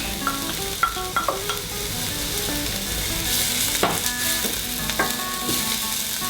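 Garlic sizzling in a hot pan for Impossible beef tacos, a steady frying hiss with clinks and scrapes of a utensil against the pan, close and continuous.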